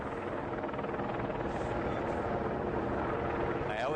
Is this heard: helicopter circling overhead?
yes